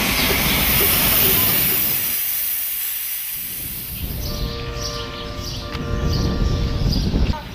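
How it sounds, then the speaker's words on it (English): Steam hisses loudly from a steam train being prepared at a station platform, a broad rush that fades midway before quieter hissing and faint tonal whistles return. "There's steam and smoke everywhere."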